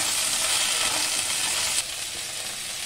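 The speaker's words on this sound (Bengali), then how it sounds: "পটলগুলো দিয়ে দিলাম, আলু দিয়ে দিলাম, পেঁপে দিয়ে দিলাম। এগুলো সব দিয়ে একটু নাড়াচাড়া করে নেব।" Pointed gourd, potato and papaya stir-fried in a pan, giving a steady loud sizzle with light scraping as the pieces are turned, easing slightly partway through, with no talk.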